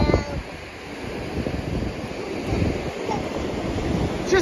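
Ocean surf washes continuously at Oceanside beach, a broad steady roar of waves mixed with gusty wind buffeting the microphone, heard close and fairly loud.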